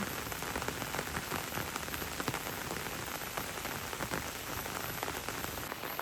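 Steady rain pours down outdoors on a fishing outing in rural Thailand, a dense continuous patter of drops hitting surfaces, fairly even and close throughout with no voices.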